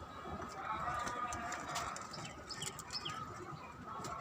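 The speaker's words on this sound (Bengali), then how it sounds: "এদিকে সাদা কবুতর, এদিকে আরো কবুতর আছে।" White pigeons and others coo softly in a rooftop garden. Faint, low murmuring calls and light flutters sit in a quiet, distant-sounding background.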